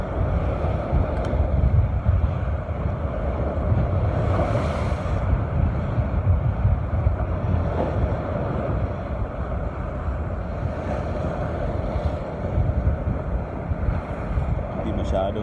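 Strong coastal wind buffeting the microphone in a constant low roar while lure fishing at Tag-ulo, Dapitan City, with sea water sounds in the background and no clear speech.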